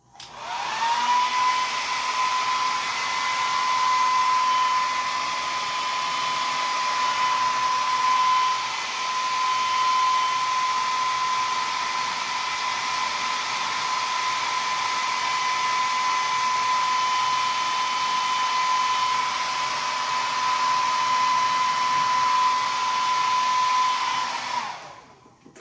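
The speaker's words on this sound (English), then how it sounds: "I'm going to hit it with the hair dryer. Use your cool setting." A hair dryer on its cool setting blows latex makeup dry, a steady close whooshing motor whine that runs nearly unbroken for the whole stretch with no talk over it.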